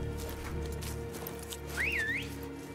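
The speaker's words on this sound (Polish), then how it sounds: "Geralt se gwizdnie." Geralt whistles in The Witcher 3 (Blood and Wine), a single rising-falling whistled phrase that stands out clearly over steady game ambience and music.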